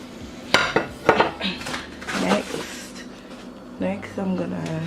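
Thyme and seasonings going into a pot of oxtail, with a few sharp metallic clinks of utensils against cookware, close by and interleaved with a person talking.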